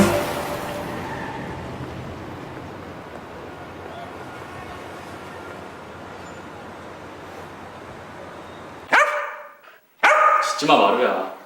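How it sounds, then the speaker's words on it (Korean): A dog barks in a few sharp, loud bursts close by near the end, after a long stretch of steady low ambient noise, in a Korean crime drama scene. "짖지마"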